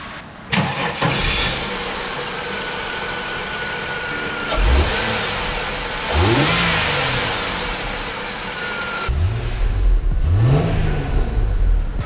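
A Holden VT/VX Commodore engine cranks with a slow, lazy rollover and catches, then settles to a steady idle broken by three short revving blips to around 3,000 RPM, close and loud.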